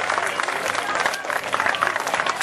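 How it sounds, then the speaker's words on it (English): A crowd at a live alligator show claps steadily and fairly loudly, with scattered voices and cheers mixed into the applause. "give this young man a nice big round of applause as he makes his way to the stage"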